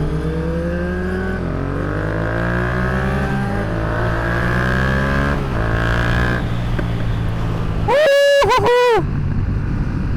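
A Yamaha FZ07 motorcycle engine runs steady and loud, its pitch sliding as revs rise and fall, then a sharp rev burst near the end.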